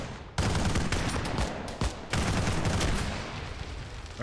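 Grenades going off in the ArmA 3 combat game, a run of loud, dense blasts with a sharp onset followed by near-continuous crackling detonations and a brief lull before another burst.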